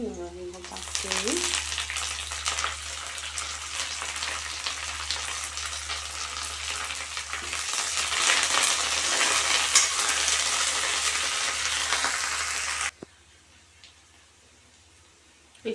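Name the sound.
curry leaves sizzling in hot oil with garlic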